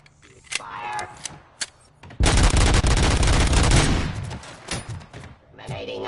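A burst of automatic gunfire in the Robocop video game erupts for about two seconds, loud and dense, framed by quieter game sounds and brief speech before and after.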